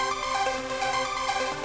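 Synth chords broken into quick arpeggios by an arpeggiator for a beat, a continuous rippling pattern of notes at an even level throughout.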